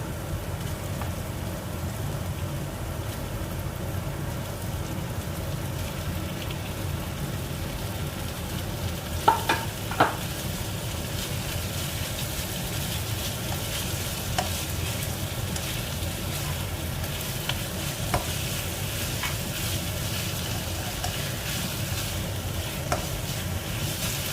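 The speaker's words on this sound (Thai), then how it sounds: "เสร็จแล้วนะคะก็ใส่เนื้อลงไปนะคะ เอาลงไปผัดนะคะ" Beef stir-fried in a pan while cooking a Thai-style beef curry (kaeng om), giving a steady, continuous sizzle with occasional scraping clicks from stirring, close and even throughout with no talking.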